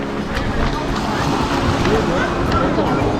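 Waves wash onto a beach in Puglia, Italy, a continuous close roar of surf mixed with wind buffeting the microphone.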